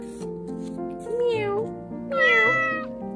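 A voice imitates a cat in a read-aloud children's picture book, giving two drawn-out, rising-and-falling meows in quick succession over a faint background.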